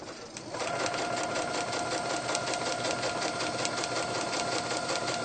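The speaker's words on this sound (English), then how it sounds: "So I'm going to start a couple stitches before my line." A sewing machine runs a continuous, even stitching run on a heart quilt block, close and fairly loud, with no voice over it.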